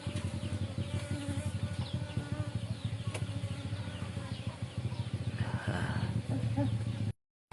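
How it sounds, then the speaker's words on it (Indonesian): Bees swarm around a palm sugar making hut, a steady dense buzzing that carries on continuously under a voice talking throughout, with a brief dropout near the end. "Ini suara lebah ya, bukan suara lalat"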